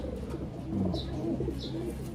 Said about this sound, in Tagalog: Ang gandang ibon, oh.